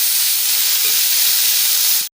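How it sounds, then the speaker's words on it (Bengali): Shrimp frying in hot oil give a loud, steady, dense sizzle that continues unbroken for about two seconds and then cuts off abruptly. "এরপর আমি চিংড়ি মাছটা তেলের মধ্যে ছেড়ে দেবো।"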